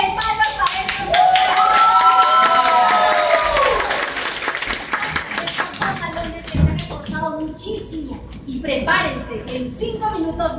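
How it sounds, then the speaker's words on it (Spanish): A crowd bursts into clapping under a host shouting excitedly in Spanish, the applause swelling then breaking into scattered claps and cheers as it tapers. "¡Palmas para estos dos!"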